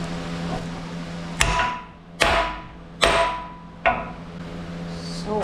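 A hammer drives a bronze bushing into an aluminum block during a compact road grader front axle rebuild: four sharp, ringing metallic blows spaced about a second apart, close and loud over a steady low hum.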